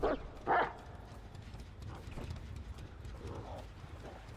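A dog barks in a killer horror video game, the Houndmaster's dog. Two sharp barks come at the start, followed by fainter yips and scuffling over a low background rumble.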